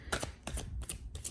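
Tarot cards riffled and shuffled by hand in quick bursts, crisp papery flutters alternating with soft taps, close and fairly quiet with no talking.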